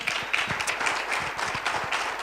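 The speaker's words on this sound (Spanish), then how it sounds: "¿Cuánto le dan un aplauso al Señor por eso?" Church congregation applauding at a Spanish-language worship service, a steady dense patter of many hands clapping at moderate level throughout the short stretch.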